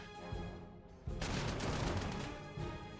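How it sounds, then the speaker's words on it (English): Counter-battery artillery fire in the WWII strategy game Panzer Corps 2: a brief thump, then a dense burst of rapid gunfire crackle that rolls on for about two seconds before tapering off. "Good old counter battery on artillery"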